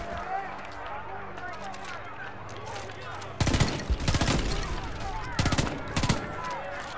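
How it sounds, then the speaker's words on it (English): Rapid bursts of video game gunfire from Homefront: The Revolution break out partway through, loud volleys in quick clusters, over a busy background murmur of voices and movement. "The gunfire seems to have died down."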